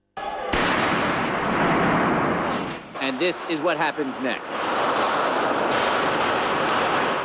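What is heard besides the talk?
gunfire echoing in a building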